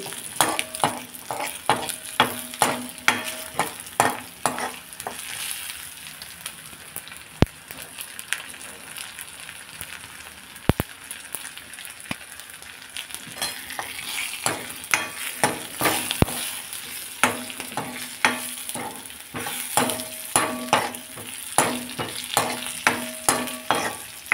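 Garlic frying in a pan for mango and moong dal, a steady close sizzle with repeated sharp clinks and scrapes of a spoon stirring, sometimes louder in bursts, with no voices.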